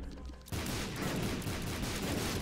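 Explosions in the game The Binding of Isaac: Afterbirth burst in after a half-second lull and keep up as a dense, continuous rumble of blasts with no speech over them.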